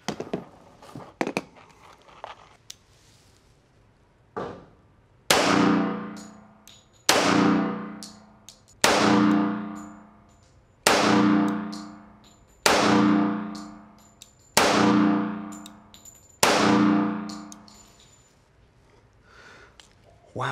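A Springfield Armory Custom Shop Professional 1911 in .45 ACP fires about eight loud, sharp shots at a steady pace outdoors, each with a ringing tail, after a few faint clinks of handling.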